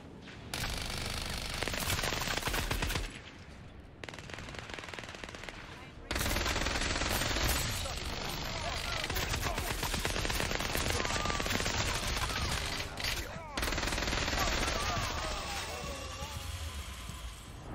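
Tier five weapons fire in the shooter game Scavengers in long, loud automatic bursts with short pauses between them, with shattering impacts and a voice talking underneath.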